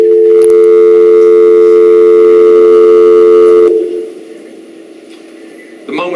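A telephone rings on stage during a theatre performance of The Drowsy Chaperone, a loud, steady electronic trill lasting nearly four seconds before cutting off into a quiet hall.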